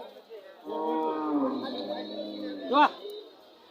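Cows moo at a busy cattle market in Roumari, a long, loud low call rising and falling for several seconds close by, ending in a short sharper bellow, with market chatter underneath.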